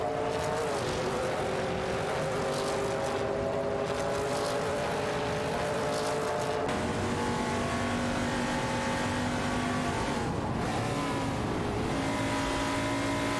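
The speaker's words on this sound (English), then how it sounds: "we're about to watch some AI race cars go zoom zoom" AI-driven race cars in a video game roar past in a steady, loud engine drone with shifting pitch, several engines overlapping continuously throughout.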